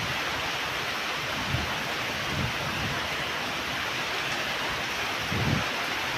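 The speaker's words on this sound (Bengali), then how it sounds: "ঢাকা বৃষ্টি চলতে আছে প্রচুর।" Heavy rain pouring down in Dhaka during an afternoon storm, a dense, steady hiss close by with a few low gusty rumbles, loud and unbroken throughout, no voices.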